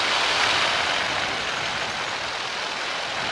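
Paramotor engine droning steadily at reduced throttle during flight, a continuous broad buzzing roar with wind rush, close and even, no voices.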